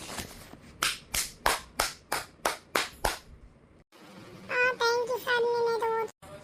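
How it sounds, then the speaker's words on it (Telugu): Children and a teacher clap for Bittu after he solves an addition problem, about nine sharp, evenly spaced claps close by, followed by a pause and then a voice. "All claps for bit."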